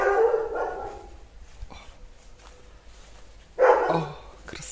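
A dog barks in two short bursts, one at the start and another near the end, with quiet in between.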